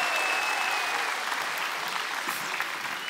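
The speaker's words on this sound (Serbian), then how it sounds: "molim još jedan aplauz" A television studio audience claps at a music entertainment show, with dense, sustained applause filling the room for the whole stretch and thinning slightly toward the end.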